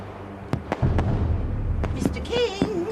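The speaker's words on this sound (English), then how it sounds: "Look at the lovely fireworks." Fireworks burst outdoors at a birthday celebration in a TV soap scene, several sharp cracking pops spaced out over a few seconds with voices chattering between them.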